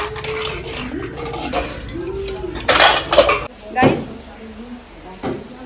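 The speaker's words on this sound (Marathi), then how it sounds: "आता मी भांडी कसत भांडी आहेत बघ जाम भांडी आहेत" Dishes, pots and pans being washed by hand, clanking and clattering in a few loud bursts close by, while a person talks over the noise.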